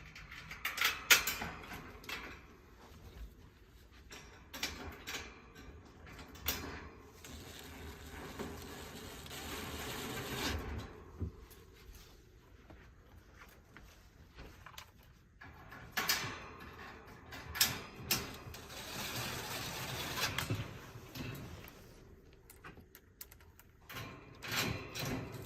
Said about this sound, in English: you want to take 4 bolts